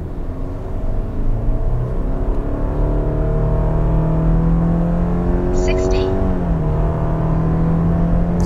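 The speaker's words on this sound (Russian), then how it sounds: "газ в пол." A Subaru Forester Sport with a CVT pulls hard at full throttle in Intelligent/Normal mode, its engine drone climbing and holding a steady loud pitch from inside the cabin, with a short high squeak near the end.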